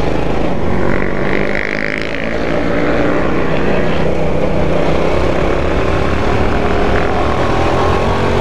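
A Kasinski Comet 650 motorcycle being ridden through town, its engine and wind roar forming a loud, steady drone that holds close and continuous throughout, with no talk over it.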